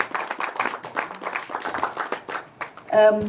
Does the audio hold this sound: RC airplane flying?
no